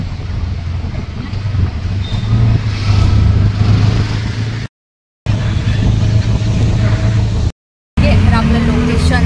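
Auto-rickshaw engine droning steadily while riding, a loud low rumble with road noise and some revving, briefly cut out twice.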